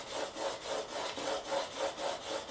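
A bone guitar saddle being sanded by hand, a steady back-and-forth rasping scrape repeating about three strokes per second, close and fairly quiet, with no talking.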